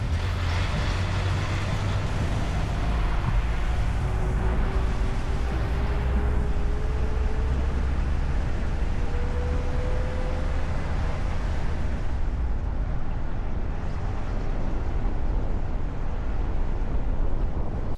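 A UAZ Buhanka 4x4 camper van's engine runs steadily, a constant low rumble with broadband noise throughout, no clear revving changes.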